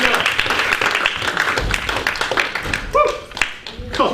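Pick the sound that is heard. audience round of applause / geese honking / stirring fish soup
audience round of applause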